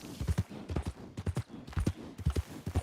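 Hooves of an Arabian racehorse clip-clop in Red Dead Redemption 2, a quiet, steady walking rhythm of soft, distinct thuds in uneven pairs and clusters, with no talking over them.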